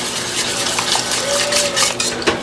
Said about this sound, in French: c'est un peu dur de fouetter et vous y allez